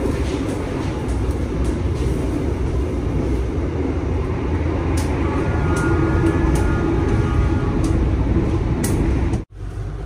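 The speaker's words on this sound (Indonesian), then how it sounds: "keretanya ngebut" A fast passenger train, the Lodaya executive service in Indonesia, rumbles steadily along the rails, a loud continuous roar with rhythmic clacks, then a brief sharp dropout near the end.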